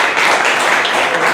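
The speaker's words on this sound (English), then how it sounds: "with a huge round of applause" Audience applause at a Toastmasters meeting rises as a dense, steady wash of clapping that stays loud and even through the short moment, with no voices over it.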